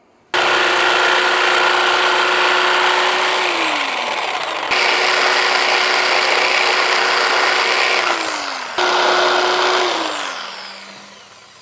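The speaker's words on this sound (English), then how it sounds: "cut that off with a jigsaw" Jigsaw cutting through cedar wood for a porch post wrap: three loud, sustained runs of buzzing blade noise, each ending as the motor winds down, the last trailing off slowly.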